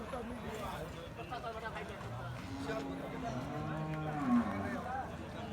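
Large beef bulls low and moo in several drawn-out calls, one louder near the end, over a busy background of crowd chatter and livestock noise at a cattle market.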